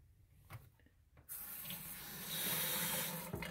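Water gushes from a brand-new kitchen faucet into a sink, starting abruptly after a quiet moment and holding as a steady, close hiss that swells a little louder partway through.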